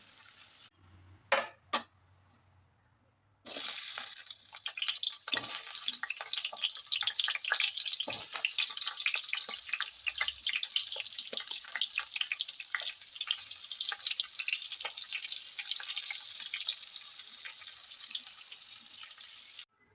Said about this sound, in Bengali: এবার এগুলো তুলে আলুগুলো ভাজবো।